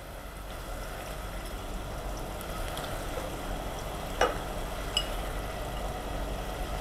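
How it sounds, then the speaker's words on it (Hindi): Mutton pieces frying with onions in a pot give a steady, even sizzle throughout, with a couple of brief clinks from stirring partway through and no talking. "अब इसमें हम मटन पीसेस डाल देंगे।"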